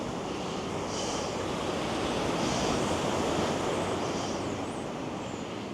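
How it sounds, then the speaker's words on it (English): Waves roll in and break on a shore with the tide coming in on a calm, windless day, a loud continuous wash of surf with gentle swells of intensity. "some good waves coming in"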